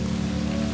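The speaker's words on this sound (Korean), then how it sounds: "갯벌에도 비가 내린다" Rain patters steadily over a tidal mudflat in a brief, even wash of drops.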